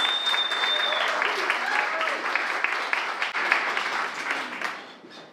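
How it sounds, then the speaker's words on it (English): Audience applause welcoming readers to a stage at a literary reading event, dense steady clapping that fades out near the end, with voices underneath. "let's start clapping, everybody"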